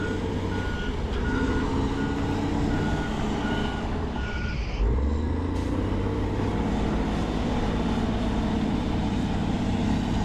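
Heavy trucks working at a deep landfill while building a trash ramp, with a steady rumbling diesel drone and repeated reversing beeps pulsing throughout, close and loud.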